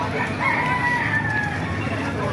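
A 10-month-old SBR gamefowl rooster crows nearby, one long drawn-out cock-a-doodle-doo rising over a steady background hum, with faint clucking around it.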